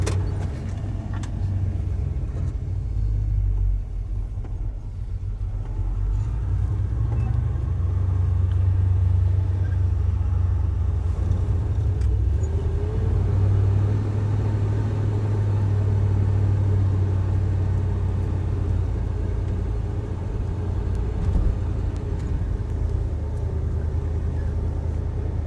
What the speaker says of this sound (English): It is carbureted, so we'll have to let it warm up for just a minute.